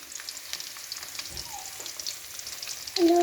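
Garlic, neem leaves and curry leaves crackle softly in hot oil while a spoon stirs them, a low steady sizzle with a faint scrape or two and a brighter clatter at the end.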